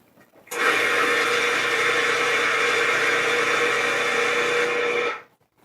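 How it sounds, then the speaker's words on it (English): Walnuts and sugar grinding in a blender into a coarse meal for baklava, a loud, steady motor whir with gritty churning that starts abruptly, holds evenly for about four and a half seconds, then cuts off. "we are going to grind the nuts until they're like a coarse meal"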